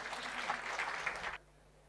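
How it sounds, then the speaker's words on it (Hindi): An audience claps for a guest, a short burst of many hands applauding at moderate distance that stops abruptly after about a second and a half, leaving quiet room tone. "ताली बजाओ इनके लिए।"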